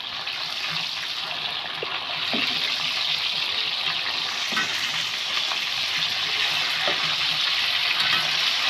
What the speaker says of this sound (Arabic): وهدي تشويحه كده للبصل برضه فيه